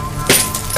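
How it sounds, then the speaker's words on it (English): Glass breaks in an abandoned building as one sharp, bright crash with brief tinkling, set against a faint background hum. "for the 5th day in a row, we heard broken glass."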